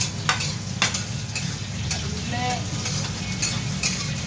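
Onion frying in a pan, stirred with regular scraping strokes and light clinks of the utensil over a loud, close, steady sizzle.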